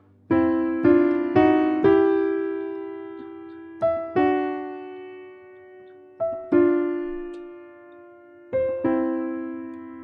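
A piano plays the right-hand horn riff from Chicago's "Saturday In The Park", punchy chord stabs, each struck note decaying before the next phrase, in a clear repeating rhythm.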